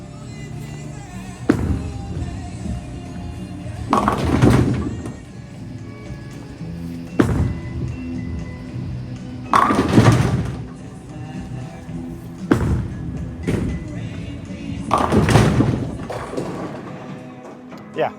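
Brunswick Ethos bowling balls are thrown down a lane again and again, each release a heavy thud followed by a rolling rumble, repeated about six times under steady talking.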